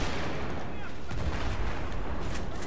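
Gunfire in a video game rattles on continuously as dense, loud shots with no breaks, filling the whole stretch at close range.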